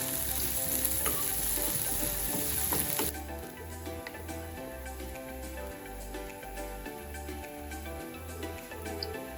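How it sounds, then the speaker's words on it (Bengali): Onions dropped into hot oil for traditional Chittagong Hill Tracts mundi soup, a loud crackling sizzle at first that settles into a steadier, quieter fry under a looping music beat. "তেলটা গরম হয়ে গেলে তারপর আমি পেঁয়াজটা ছেড়ে দিলাম"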